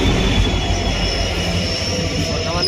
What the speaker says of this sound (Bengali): দুলধরা ট্রেন আই গেছে